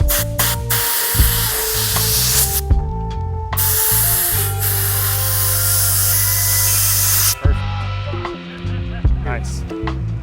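An air blowgun hisses in long loud bursts, blowing on a scooter grip during assembly, with clattering handling noises and people talking between the blasts.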